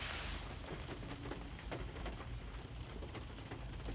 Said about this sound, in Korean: 차 위로 이렇게 떨어지는 빗소리가